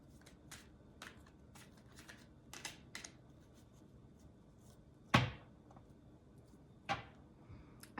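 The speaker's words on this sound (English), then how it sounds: "I also spend too much time shuffling the cards." Tarot cards are shuffled close by, with soft riffling and flicking taps at irregular intervals, a few sharper slaps and bursts standing out against a quiet room.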